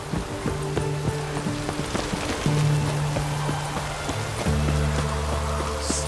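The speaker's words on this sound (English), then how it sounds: "Looks like rain." Steady rain hisses across the scene in The Witcher 3: Wild Hunt, a constant broadband patter under sustained musical tones, with no voices.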